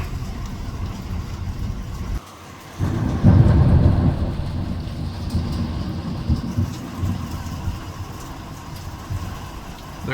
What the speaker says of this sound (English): You can see the hail hitting the ground here